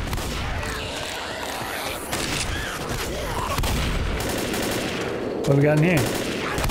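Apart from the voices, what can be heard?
shotgun gunfire in Left 4 Dead video game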